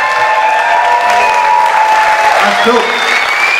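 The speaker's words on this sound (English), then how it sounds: "How about a round of applause for Ben Boxiera for putting this together?" A crowd at a 2017 memorial concert for Alex Nieto applauds Ben Boxiera, a steady, dense wash of clapping and cheering throughout, with a voice briefly speaking over it and some whistle-like tones.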